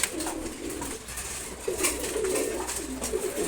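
A racer pigeon coos softly and quietly during morning feeding, with low repeated murmuring calls.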